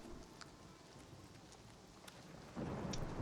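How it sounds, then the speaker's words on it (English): Thunder rumbles low and soft under steady rain in the game Oblivion Remastered, with scattered light ticks and a swell of heavier rumbling toward the end. "I feel like this thunder's very loud, but it's also not at the same time."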